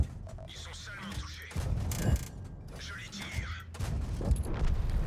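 Tank cannon fire and mechanical clanks from a World of Tanks match with a Batignolles-Châtillon 12t light tank, loud bursts of gunfire mixed with creaking, ratcheting machinery over a steady battle din.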